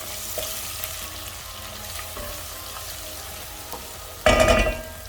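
Curry base with a cinnamon stick being stirred in a pan, a low, steady sizzle with light occasional utensil taps, ending in a sudden louder burst of scraping and clatter near the close; no talk.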